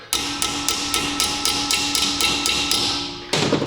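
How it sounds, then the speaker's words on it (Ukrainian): A 9 mm socket is hammered onto a rusted stud on a Renault Kangoo 1.5 dCi, with about ten sharp metallic hammer blows in a steady rhythm, close and loud, and a final louder strike after a short pause. "Набиваю головку на 9."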